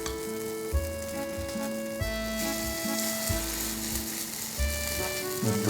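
A steady sizzle of spinach fritter batter spooned into a hot pan, with soft background tones, continuous and moderately loud.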